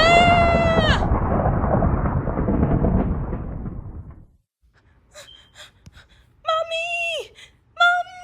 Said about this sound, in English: I just don't know how long I can stand the storm for much longer